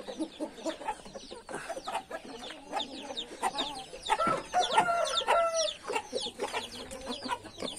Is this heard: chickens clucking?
yes